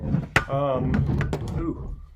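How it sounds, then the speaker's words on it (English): A camera gets knocked while someone talks about Glenfiddich 12 Scotch whisky, giving one sharp thump near the start under his continuous speech. "Knocked the camera there."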